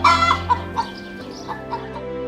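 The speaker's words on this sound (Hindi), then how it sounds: "वो उनके घर के पास मुर्गियों को पालते थे" Domestic chickens kept near a village house cluck in a burst of loud, close calls at the start, followed by scattered softer clucks at irregular intervals.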